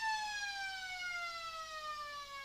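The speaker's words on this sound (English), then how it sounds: "Got the pressure of the siren now." A match siren sounds at a 2024 Riverina Australian football game between the Lions and the Bulldogs: one steady, faintly distant wail held for the whole stretch, its pitch sliding slowly downward, with no voices over it.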